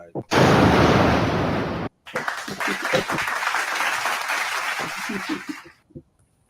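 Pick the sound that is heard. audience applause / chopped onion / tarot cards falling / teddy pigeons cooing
audience applause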